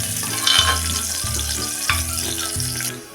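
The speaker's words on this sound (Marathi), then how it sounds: "कांदा पण आपण चांगला गुलाबी होईपर्यंत परतून घ्यायचा आहे चांगला मऊ पडल्याशिवाय त्यावर टोमॅटो टाकणार नाही आहे" Onion sautéing in a pan for a traditional pavte rice dish, with a steady sizzle over the whole clip, a few louder stirring scrapes and low clunks of the spoon against the pan, close and without talk.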